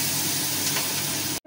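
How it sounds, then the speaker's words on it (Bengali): Pabda fish fry in oil with a little salt: a loud, dense, continuous sizzle heard up close that cuts off abruptly at the end. "মাছটা ভাজা হচ্ছে, অর্ধেক ভাজা হয়ে গেছে"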